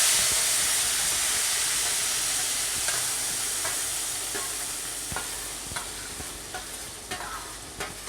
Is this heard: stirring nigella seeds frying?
yes